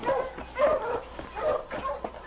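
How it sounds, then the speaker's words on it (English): Husky sled dogs barking and whimpering as a radio drama effect on a Yukon trail scene, a cluster of close, muffled yips and barks with restless whines over a rough background. "As Sergeant Preston gave the command to his dogs, they started forward."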